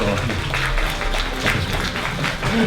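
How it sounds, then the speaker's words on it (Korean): Applause at a Korean drama press conference photo session as cast members are called onto the stage, a steady wash of clapping from the gathered audience. "자, 하령이 박수 부탁드립니다."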